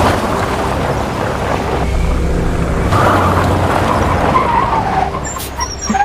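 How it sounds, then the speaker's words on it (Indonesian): In a film scene, a car races past a bus along a sandy roadside, a loud, steady rush of engine and road noise mixed with wind buffeting, fading slightly at the end. "Dengan marah, Jugnu menyalip bus melewati pinggir jalan yang berpasir."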